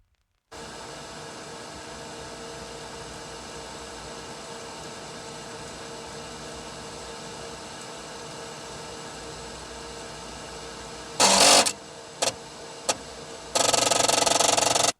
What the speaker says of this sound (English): The sounds you hear are coming from the diskette file.